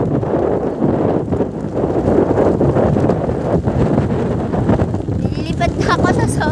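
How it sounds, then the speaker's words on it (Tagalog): Strong wind on a 12th-floor level of a food park in Japan buffets the microphone with a constant loud rumble and rushing gusts, while people talk underneath. "Nililipat na ako sa sobrang lakas ng hangin."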